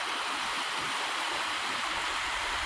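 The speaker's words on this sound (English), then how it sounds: "That is just a cool ass creek" Flaggart Creek in the heart of Pennsylvania, near the Keystone Viaduct, rushes by in a close, steady, full-bodied wash of flowing water with no voices.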